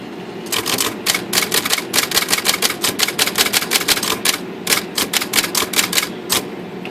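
A Sears electric typewriter, its shift mechanism newly readjusted, types loud, close rapid key strikes in quick bursts with brief pauses, the clatter running steadily throughout over a faint motor hum.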